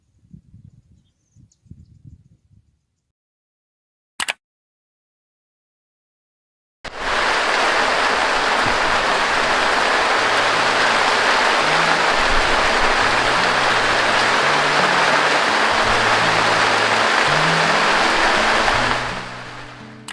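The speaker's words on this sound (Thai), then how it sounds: "ฝนมาแล้วครับผม เตรียมเปียกได้ครับผม" Heavy rain pours down outdoors at a reservoir during a bottom-fishing trip, a loud steady broadband hiss lasting about thirteen seconds after a quiet start with faint sounds and a single sharp click.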